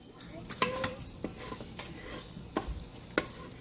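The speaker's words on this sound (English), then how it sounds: "We're going to add our onion. Let that cook for a little bit." Onion cooking in a pot for chili, with faint sizzling under irregular clinks and scrapes of a spoon stirring against the pot.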